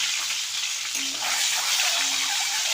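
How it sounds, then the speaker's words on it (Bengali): An egg frying lightly in hot oil in a home kitchen, giving a steady, close hiss and crackle of sizzling fat that runs throughout, with faint stirring. "ডিমটা আমি হালকা করে ভেজে নেব"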